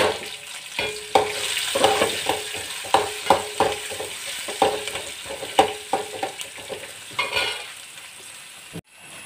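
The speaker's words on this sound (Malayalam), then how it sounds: "ഉള്ളി ഇട്ട് കൊടുക്കാം. പച്ചമുളക് ഇട്ട് കൊടുക്കാം." Onion and green chili fry in a pan for rice-flour upma: a steady sizzle with repeated sharp clinks of a spoon stirring against the pan, close and loud, no talking.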